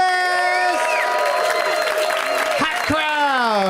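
Live studio audience at the UCB Theater on Franklin Avenue in Los Angeles cheering and whooping loudly, a dense roar of shouts and high yells sustained throughout with no pause.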